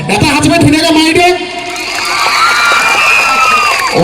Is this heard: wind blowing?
no